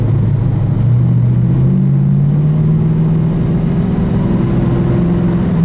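A 1974 Dodge Challenger Rallye with a 318 V8 runs steadily close by, its deep, even engine hum holding a constant pitch with a slight rise partway through.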